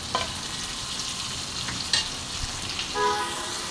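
Spice paste frying in hot oil, a dense continuous sizzle close up with occasional stirring scrapes and a brief louder spatter near the end.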